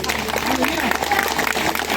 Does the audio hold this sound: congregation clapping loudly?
yes